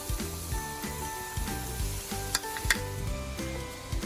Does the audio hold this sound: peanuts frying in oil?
yes